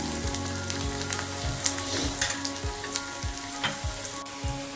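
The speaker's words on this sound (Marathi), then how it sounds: "परतून घेऊया" Onions sauté loudly in a pan for an eggplant and potato dish, a constant sizzle broken by regular scraping strokes of a spatula.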